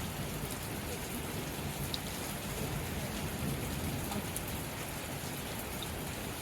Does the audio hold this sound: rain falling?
yes